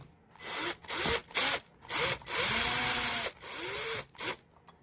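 Cordless power drill on a low torque setting driving screws into a Schlage electronic deadbolt, several short whirring bursts with rising and falling pitch and one longer run, separated by pauses.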